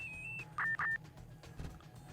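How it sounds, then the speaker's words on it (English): Two short, bright electronic video game alert beeps in quick succession, loud and close, with quiet background hum before and after. "I really don't like those beeping noises."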